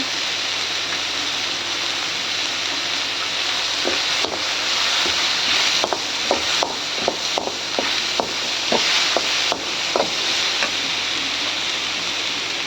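Turmeric-coated food sizzles in a pan with a steady hiss, broken by a run of sharp clinks and scrapes from a spoon stirring against the metal in the middle stretch.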